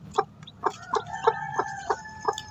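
Newly hatched native chicken chicks cheep in a string of about seven short, high, evenly spaced peeps, close by and fairly soft over a low background rumble.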